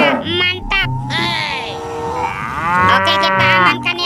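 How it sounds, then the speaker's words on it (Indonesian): A toy cow gives drawn-out electronic moos, loud and close, with some children's-show chatter around them. "ada hewan sapi, sapi mo."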